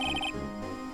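A phone notification chime, a few quick repeated bright tones in the first third of a second, then fading into a low steady hum, with no talking.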